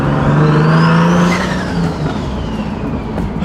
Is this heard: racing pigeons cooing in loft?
no